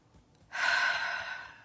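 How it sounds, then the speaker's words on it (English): A long, deep exhale during a tapping and breathing exercise, a soft breathy rush that swells suddenly and then fades slowly. It is close, moderately loud and heard alone, with no talking. "So, just tapping and breathing."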